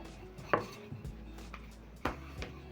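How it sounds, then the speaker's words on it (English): Chapati dough is rolled out into a circle with a rolling pin on a board, giving two sharp knocks of the pin and soft rolling thumps in a quiet room, with no talk. "I'm going to roll out using my rolling pin into a circle or into a round shape"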